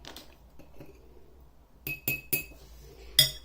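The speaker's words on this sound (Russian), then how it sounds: "Сразу размешиваю." A metal spoon stirs turmeric into a mixture for homemade cough-drop candies, striking the glass in a few sharp, bright, close clinks that come in a quick cluster after a quiet start, with no talk.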